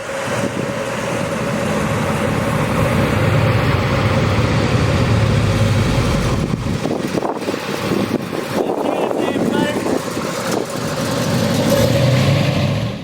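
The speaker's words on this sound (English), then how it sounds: "1929 Packard Dual Cowl Phaeton" A 1929 Packard Dual Cowl Phaeton drives past at a Canada Day event, its engine a loud continuous rumble mixed with heavy wind noise, with a brief lull midway before the drone returns.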